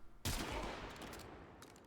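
Warframe gunfire for a headshot: a sudden burst of shots erupts and rolls on as a dense, fading volley, fairly quiet overall.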